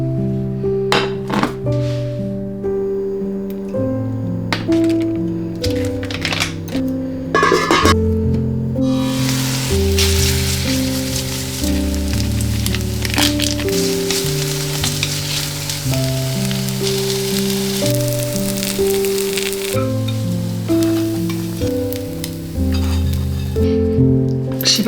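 Ramen and a Garden Gourmet breaded patty frying in a pan, a steady hissing sizzle running under louder background music.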